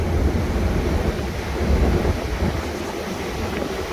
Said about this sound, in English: That's a lot of water going over the spillway